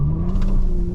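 A 2023 Toyota Camry TRD's V6 engine hums with a loud, close, steady low drone that swells slightly in a brief rev, with no voices.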